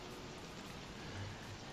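Rain in the video game Don't Starve, a faint, constant hiss of falling drops with no other distinct sounds.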